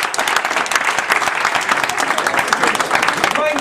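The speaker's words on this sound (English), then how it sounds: "give the fighters a big round of applause please." An audience at a mixed martial arts press conference claps for the fighters in steady, dense applause that fills the room throughout, with a voice faintly present beneath it.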